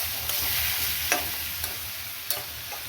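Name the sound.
masala frying and being stirred in a pan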